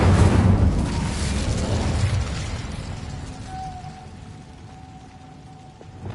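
An Incendio fire spell is cast in Hogwarts Legacy, a loud burst of roaring flame that fades into a crackling, rumbling tail with a thin ringing tone.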